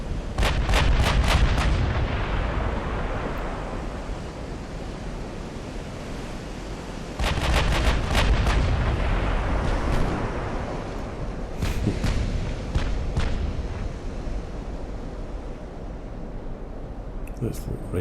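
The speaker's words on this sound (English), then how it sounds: "see the effect with the secondary armaments firing as well" Heavy naval guns of a modern battleship fire a broadside in Ultimate Admiral: Dreadnoughts, with secondary armaments joining in: loud booming blasts in bursts near the start and again around the middle, followed by scattered sharper reports over rolling sea-like rumble.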